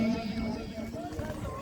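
Horses gallop during a neza baazi tent-pegging event in Rakha Dhamiyaal, Sohawa, Jhelum, their hoofbeats steady and somewhat muffled beneath continuous loud commentary and crowd noise.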